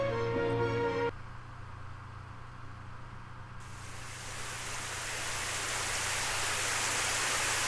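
Steady hiss of freezing rain falling from a frigid January sky, a dense broadband wash that swells louder after a few seconds and continues alone without talk.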